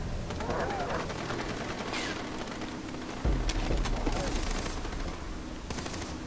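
Automatic gunfire rattles in the Far Cry 3 video game, a steady stream of rapid shots continuing throughout amid a dense mix of game sounds, with a heavier burst partway through.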